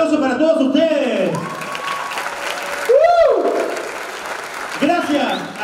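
Applause and cheering from a dance-show audience at an anniversary performance in a hall, swelling in bursts around voices and whoops, with people talking and shouting over it throughout.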